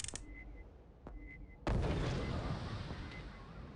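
A grenade-launcher grenade from the video game Alien vs Predator 2 bursts in a single loud blast after a couple of quieter pops, then a long rumbling tail fades slowly with no talking.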